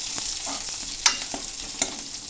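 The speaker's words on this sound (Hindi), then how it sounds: "अब थोड़ा सा मैं जीरा डालना चाहूँगा और इसको घुमाएंगे अच्छे से" Cumin seeds sizzle steadily in hot oil in a pan while a spoon stirs, giving a continuous close frying hiss with two sharp scraping clicks.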